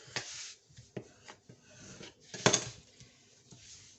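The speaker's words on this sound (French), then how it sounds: "J'aplatis bien mon scotch" Adhesive tape being pressed and rubbed flat onto paper while making a handmade album, giving soft close rubbing and scraping strokes in short bursts with one sharper crackle partway through.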